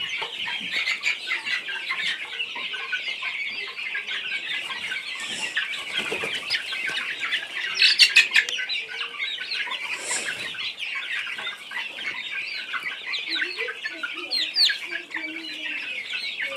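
A crowd of chickens clucking constantly inside a coop, dense overlapping chatter close by with occasional louder squawks and a brief flutter of wings, some chicks reportedly unwell with coccidiosis.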